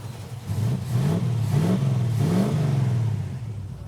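A modified stick-shift car with a mild cam and headers, freshly fitted with new spark plugs, runs steadily and close by, its engine note rising and falling slightly in a few gentle revs over a rumbling idle.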